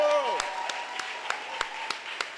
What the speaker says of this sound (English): Can we have a round of applause for Deputy Chair Zanae Yeshitela